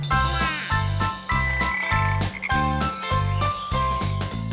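Cartoon-style frog croaks repeat in a bouncy rhythm, several loud close croaks layered over bright jingling musical tones with no speech.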